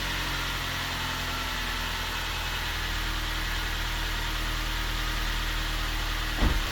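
A Suzuki Grand Vitara engine idles steadily with a low, even rumble, close by and unchanging, followed by a brief thump just before the end.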